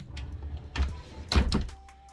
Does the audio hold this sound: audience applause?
no